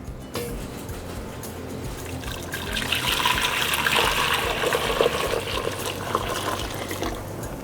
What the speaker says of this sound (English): Now we're gonna take this enriched stock, if you will. We're gonna add it right back to the pot.